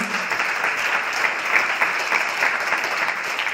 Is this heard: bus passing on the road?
no